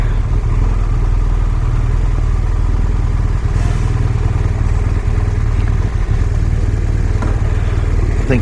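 BMW R1200RS motorcycle riding on a cold, snowy day, with a steady low engine drone and wind rush running continuously, close and loud, with no talking.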